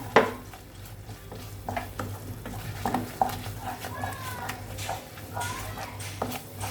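A spoon stirs fried chicken into a thick cheese sauce in a pan, giving soft scraping and sticky stirring sounds over a low sizzle, with occasional clinks of utensil against metal; a voice speaks briefly.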